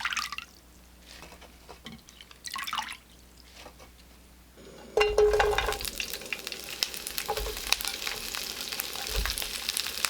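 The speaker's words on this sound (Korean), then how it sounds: "프라이팬에 식용유 1스푼을 넣고 양파, 당근, 피망 넣어 살짝만 볶고" Onion, carrot and bell pepper hit a frying pan with a spoonful of cooking oil. After quiet handling and a few drips, a loud sizzle bursts in and continues with crackling and stirring scrapes.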